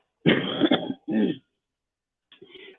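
A couple of throaty coughs close up, a longer burst then a shorter one, followed after a pause by a faint softer rasp.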